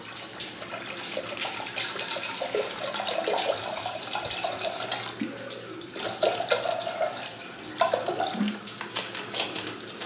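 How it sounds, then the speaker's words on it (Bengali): Water runs and splashes steadily from a tap into a cooking pot before dal is boiled, a continuous close pouring rush with gurgling variations throughout. "পরিমাণ মতো জল দিয়ে দিলাম।"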